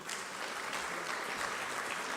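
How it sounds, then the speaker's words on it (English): An audience at a civil society conference on anti-money laundering gives dense, steady applause that fills the whole stretch, even and sustained without dying away. "please clap for these ladies and gentlemen"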